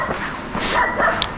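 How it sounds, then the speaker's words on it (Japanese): A dog barks and yips somewhere in a quiet fishing-port town at night, a few short calls at middle distance over a hiss of wind and ambient noise, with no voices. "犬が鳴いてるよ。"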